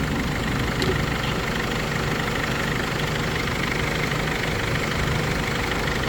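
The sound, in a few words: Mercedes Sprinter 313 engine idling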